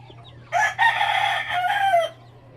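A red junglefowl rooster crows once, loud and close, a strained call lasting about a second and a half over a faint steady hum.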